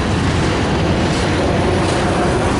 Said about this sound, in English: there's a BNSF train that I might go catch right now